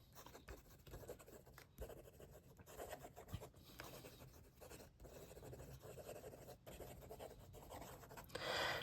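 A LAMY Balloon fountain pen with a slightly scratchy nib writes on paper, giving a faint, continuous close-up scratching with small pauses between strokes.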